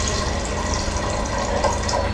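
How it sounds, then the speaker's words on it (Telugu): Water poured into a pan over tomatoes on a medium flame while making red sauce pasta, a steady, close, continuous rushing pour with no break. "నీళ్ళు వేసుకుందాం నీళ్ళు కాస్త ఈ టమాటాలు మునిగేంత వరకు వేసుకోండి"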